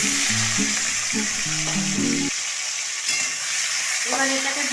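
Chopped tomato, beans, potato, onion and carrot fry together for chowmein in a loud, constant sizzle, with a melodic tune playing over the first half and briefly again near the end.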